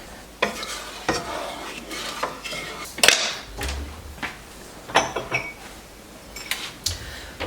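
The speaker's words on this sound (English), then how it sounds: "let our sugar melt, and we're going to cook it about 3 minutes" Sugar melting and cooking in a pan in a home kitchen, with soft sizzling under intermittent clinks and scrapes of a utensil against the pan and a few thumps, all close by and moderately loud.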